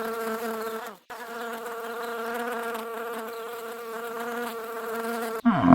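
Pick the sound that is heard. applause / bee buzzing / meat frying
bee buzzing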